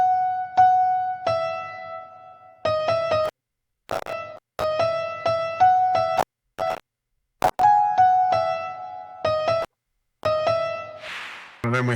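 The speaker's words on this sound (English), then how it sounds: "and then the chorus section sounds like this" Chorus of a Christmas song, with bright sustained synth and piano chords over a low bass pulse, broken by short gaps and a few sharp percussive hits before a closing noisy swell.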